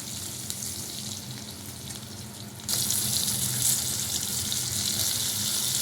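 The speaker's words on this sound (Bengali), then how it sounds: "পেঁয়াজ ভাজা।" Onions fry in hot oil in a pan, giving a steady close sizzle that jumps louder and brighter partway through and then holds, with no one talking.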